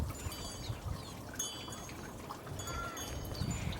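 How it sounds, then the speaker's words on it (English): Water trickling and dripping from a hanging bag of wet homemade clay, a soft continuous pouring dribble with faint high glints, steady and fairly quiet. "I can hang this up, hopefully let the water start to drip back out."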